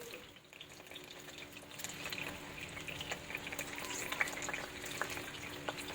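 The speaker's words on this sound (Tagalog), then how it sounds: "lutuin muna natin yung ating tofu hanggang sa mag-golden brown" Six pieces of tofu fry in a pan until golden brown, giving a steady, moderate crackling sizzle with scattered sharp pops and a slight watery hiss, rising a little toward the end with no talk.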